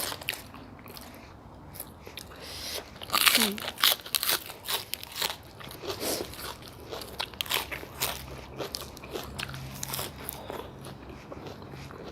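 Crisp vegetables crunched while eating a bowl of Thai pork noodle soup with fried garlic and crispy pork rinds, with close repeated bites and chewing over a busy background with some talk.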